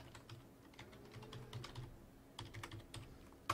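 Quick bursts of key presses on a computer keyboard while a router username and password are entered, close and quiet, with short pauses between groups of taps.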